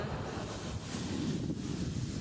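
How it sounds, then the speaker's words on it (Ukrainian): Stormy sea at a beach in Scalea, Calabria, heard as a broad roar of surf and buffeting wind across the microphone, loud and continuous with no voices. "Море штормить дуже."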